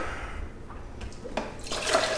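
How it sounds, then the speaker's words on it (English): Water flows and trickles through a PVC pipe aquarium setup, faint gurgling and splashing that swells into a brighter rushing pour toward the end, no speech. "Look at the water flowing through."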